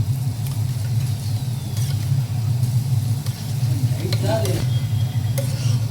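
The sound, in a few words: stirring curd into chopped vegetables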